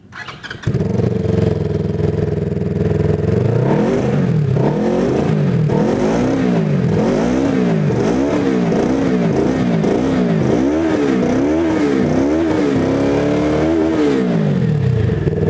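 A Kawasaki SM400 motorcycle with a custom exhaust starts and idles, then revs repeatedly in rising and falling bursts, loud and close with a throaty exhaust.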